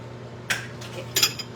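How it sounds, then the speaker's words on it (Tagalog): Cooked squash being moved into a dish, with two brief clinks and scrapes of pots and utensils, close and fairly quiet, alone without talk. "Ita-transfer natin yung kalabasa."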